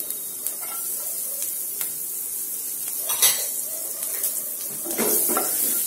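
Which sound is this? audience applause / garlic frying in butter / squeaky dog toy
garlic frying in butter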